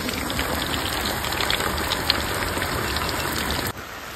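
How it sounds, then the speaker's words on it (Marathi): Heavy unseasonal stormy rain pours down in a dense, steady hiss that drowns out everything else, loud and close. The roar drops suddenly near the end, and no one speaks. "एकदम वादल्यासारखा पाऊस पडतोय"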